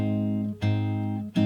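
Bossa nova style ii chord of a 2-5-1 progression: sustained, full, keyboard-like chord tones held steadily, with short breaks where new chords are struck, played alone.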